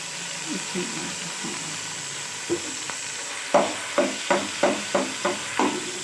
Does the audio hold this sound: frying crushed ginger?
yes